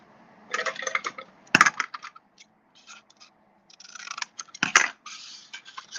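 Scissors cut through paper while Christmas table favors are being made, giving crisp, close snips and rustles in short irregular bursts. Two sharper clicks of the blades stand out among the cuts, with quiet gaps between them and no talking.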